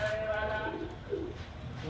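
A pigeon coos softly amid faint background noise and low rumble, the soft throaty call barely standing out.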